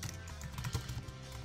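Quiet, close typing on a computer keyboard, a short run of soft, rapid key clicks.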